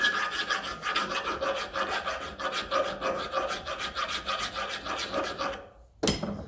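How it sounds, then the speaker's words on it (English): A sharp hand file rasps along the edges of a stud from a 1954 Ferguson 20 TEF diesel tractor, close and rhythmic with steady repeated strokes, stopping briefly before one final scrape. "With a sharp file, let's turn it on each edge"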